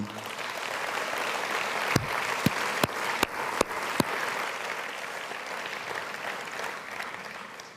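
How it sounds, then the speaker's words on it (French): Congress audience applauding in a large hall, a steady wash of clapping with a few sharp, distinct claps standing out near the start, continuing evenly to the end. "Je pense que vous pouvez les applaudir."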